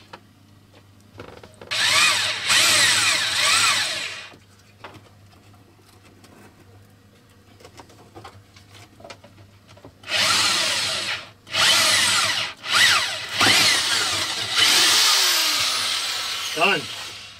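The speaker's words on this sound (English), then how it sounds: "So now to drill that hole." Power drill boring a hole through the wall of a truck camper, several loud bursts of high-pitched whirring separated by pauses, close up, with faint talk in between.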